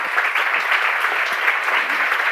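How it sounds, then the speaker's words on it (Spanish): An audience at the closing of an annual forum applauds to welcome a minister, a dense, steady clapping that fills the room at close range and holds evenly for a couple of seconds. "Un aplauso, bienvenida."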